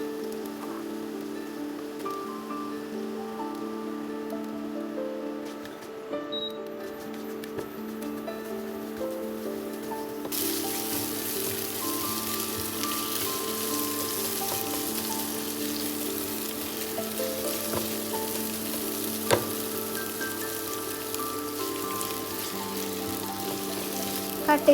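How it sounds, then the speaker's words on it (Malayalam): Onions sauté in a pan for a lentil curry, a steady close frying hiss that grows brighter and louder partway through, with an occasional clink of a utensil. "അപ്പോൾ ഉള്ളി ഇട്ടിട്ട് ഒന്ന് സോട്ട് ചെയ്തെടുക്കുക"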